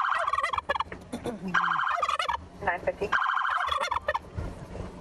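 A turkey gobbles in rising and falling wailing calls that mimic a siren, repeated several times in loud, close bursts.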